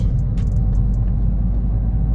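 Mini Cooper S R56 exhaust at low revs while driving, a steady deep rumble that is loud and close, with a few faint higher sounds above it.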